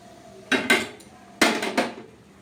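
A spoon clatters against a pan while fried semolina is stirred with added milk, in two short bursts of metallic scraping and knocking with quiet gaps between.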